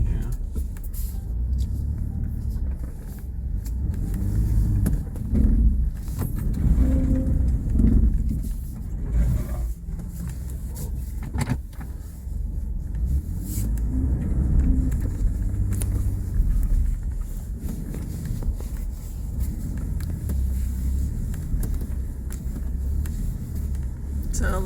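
A heavy off-road vehicle labours through deep sand at an OHV park, its engine rumbling low and surging in waves. Indistinct voices can be heard at times.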